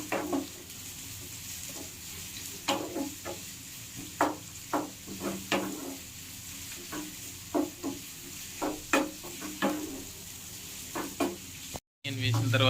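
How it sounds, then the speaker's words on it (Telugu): Two medium onions frying toward golden for a Rayalaseema-style chicken curry, with a steady sizzle broken by frequent rhythmic spatula scrapes against the pan, close and clear, ending with a brief cut. "బాగా గోల్డెన్ కలర్ వచ్చేంత వరకు బాగా ఫ్రై చేసుకోవాలి"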